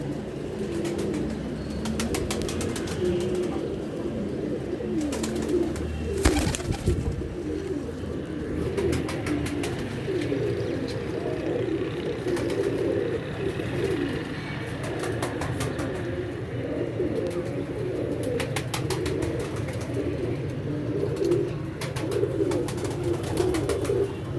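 Several caught pigeons coo repeatedly in soft, rolling calls that come close and steady over a constant background hum, with occasional flutter-like bursts and no speech.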